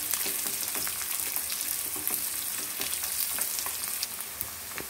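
Garlic fries in hot oil for a raw tamarind pickle, a continuous close sizzle with crackling pops and light stirring and no voices.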